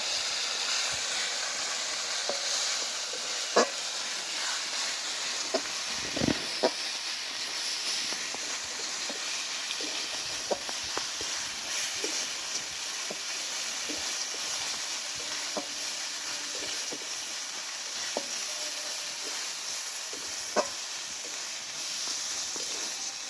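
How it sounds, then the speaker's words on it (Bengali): Spice paste with turmeric fries in a pan with a soft, steady sizzle and hiss, punctuated by scattered clicks and taps from stirring, fairly quiet and continuous throughout. "এবার আমি সব মশলাগুলো ভালোভাবে একই সাথে কষতে থাকবো।"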